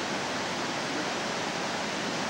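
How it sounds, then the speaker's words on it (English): Steady broadband rush of a brook flowing, continuous and even with no breaks or voices. "And here it's crossing a river. They call it a brook."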